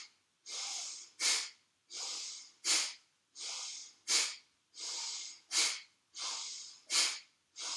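Slow rhythmic yoga breathing with fists clenched, close to the ear: about five cycles of long, hissing inhalations, each followed by a sharper, forceful exhale with brief pauses between.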